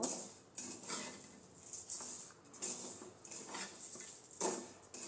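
Semai vermicelli with crushed fried nuts is stirred in a pan, making quiet, uneven scraping and clinking of a utensil against the metal.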